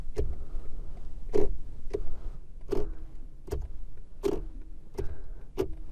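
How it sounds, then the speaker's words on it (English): A run of sharp plastic clicks from the indicator stalk of a new BMW 1 Series, about eight of them at a steady pace, close up with nothing else going on. "the worst thing is the indicator stalks. They're just so flimsy and cheap sounding"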